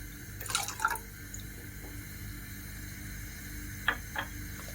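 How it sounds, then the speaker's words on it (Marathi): Soaked cumin and a glass of water go into a cooking pot, giving a quick burst of pouring and splashing near the start, then two faint, isolated drips later in an otherwise quiet room. "इथे एक ग्लास पाणी घातलेले टोपामध्ये याच्यामध्ये ॲड करून घ्यायचं"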